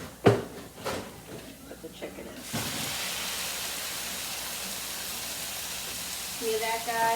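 Chicken pieces for fried rice hit a hot frying pan after some clattering, then a steady loud sizzle and hiss carries on, with a few clunks of utensils near the end.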